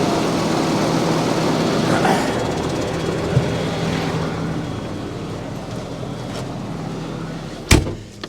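A steady low tractor engine rumble runs throughout, close and continuous, with a sharp knock near the end, during soybean sowing.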